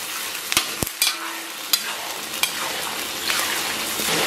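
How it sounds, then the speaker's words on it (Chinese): Soybean paste, Pixian chili bean paste and Xiangqi sauce stir-fried in a wok with scallion, ginger and onion, a continuous sizzle punctuated by sharp spatula scrapes and clanks against the pan, growing louder toward the end. "咱们给它充分炒香"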